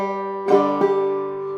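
Clawhammer banjo playing a third measure with a hammer-on, two quick bright strikes over ringing open strings, close up with no voices.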